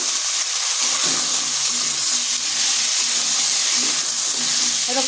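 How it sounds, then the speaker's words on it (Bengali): Pumpkin and potato pieces frying uncovered in a pan, a continuous loud hissing sizzle with occasional soft stirring clinks. "এবার কুমড়া আর আলু আর কিছুক্ষণ ভেজে নিচ্ছি"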